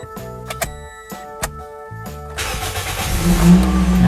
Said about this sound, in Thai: เราจะเริ่มสตาร์ทเครื่องแล้วนะครับ